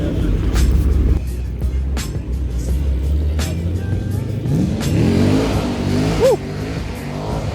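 A V6 Ford Mustang with a Roush straight-pipe exhaust at a Cars and Coffee meet in Portland, loud and close, with a rough engine note and repeated throttle blips and revs. A man whoops over it.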